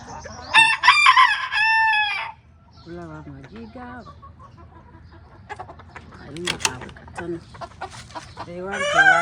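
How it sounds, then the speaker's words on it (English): Local chickens in a large cage on a mixed farm in Dubai, a rooster crowing loudly and close with hens clucking between crows, while a person talks intermittently. "that is my chicken for you"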